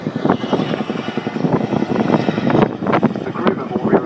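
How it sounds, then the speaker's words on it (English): A Chinook twin-rotor helicopter performing at the 2013 Waddington air show, its loud rhythmic rotor chop and engine roar steady and close, with a commentator speaking over it. "the Chinook demonstrated its excess of power compared to other helicopters"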